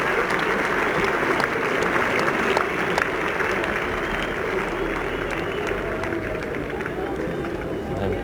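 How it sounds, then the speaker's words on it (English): Crowd at Headingley during the 1981 Ashes Test, England against Australia, after an Australian wicket falls: steady, dense applause and crowd noise fill the whole stretch, loud and continuous with a broad roar beneath. "An animated crowd here at Headingley."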